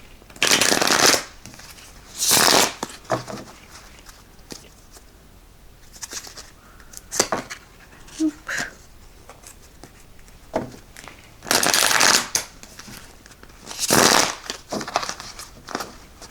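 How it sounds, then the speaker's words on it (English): Tarot cards are shuffled close up in several separate loud bursts of riffling, with quieter card handling and soft tapping in the pauses between them. "One more shuffle."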